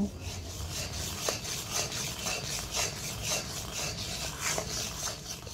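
Jaggery with a little water melting in a wok as it is stirred, a steady scraping rasp with rhythmic strokes of the spoon against the pan, close and moderately loud, with no talk.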